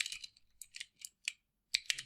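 Keystrokes on a computer keyboard while entering Linux update commands, a quick run of close, crisp clicks in uneven bursts with a pause before a final few taps, no talking.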